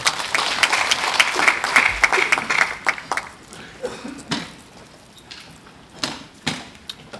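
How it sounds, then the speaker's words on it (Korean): An audience at a medical seminar applauds to welcome a speaker, a burst of clapping in the opening seconds that thins into scattered claps and room noise. "큰 박수로 환영해 주시고"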